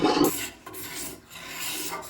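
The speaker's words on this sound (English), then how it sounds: "Using a farrier's rasp works well," A farrier's rasp files along an Osage orange self bow, giving short rough scraping strokes, a loud rasp at the start followed by softer rubbing passes, close up with no voices.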